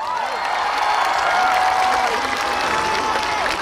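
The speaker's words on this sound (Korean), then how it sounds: "많은 박수 감사합니다!" Applause and cheering rise from a large crowd at an outdoor autumn district concert, with steady dense clapping throughout and a voice heard faintly over it.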